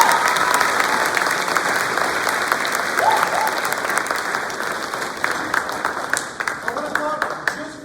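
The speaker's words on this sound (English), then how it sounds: "I think they deserve another round of applause." Audience at a middle school spring band concert breaks into sustained applause, dense and even at first, then thinning out toward the end as the clapping trails off.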